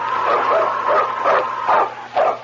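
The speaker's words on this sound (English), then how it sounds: "It's Yukon King, swiftest and strongest lead dog of the Northwest" A husky lead sled dog barks and yips repeatedly in an old radio drama, the calls loud and close with a thin, band-limited broadcast quality and short gaps between barks.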